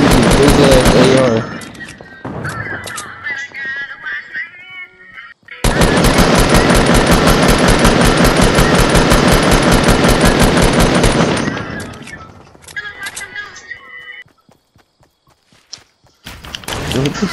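Rapid automatic assault rifle fire from a Fortnite match, a long dense burst of gunfire broken by short pauses and footsteps, loud and close, with some talking over parts of it.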